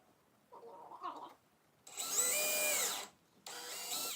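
A power drill whirs in two close bursts, the first longer with a rising then falling pitch, the second short, after a faint clatter.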